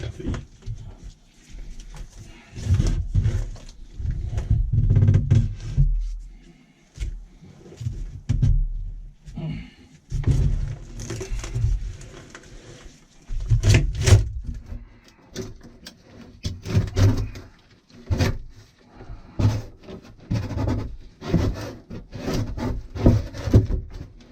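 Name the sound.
prying plywood panel out of boat aft cabin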